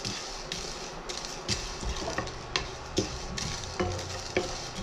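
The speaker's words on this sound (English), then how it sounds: "let's give a dry roast for at least 2 to 3 minutes" Fennel seeds and spices dry roasting in a pan, a steady dry crackling hiss broken by repeated scraping stirs and light clinks of the utensil against the pan, close and moderately loud.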